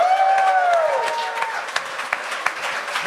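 Studio audience applauding the staff on a Quebec comedy talk show: dense, fairly loud applause fading through the clip, with a host's voice speaking over the start and a few sharp claps standing out near the end.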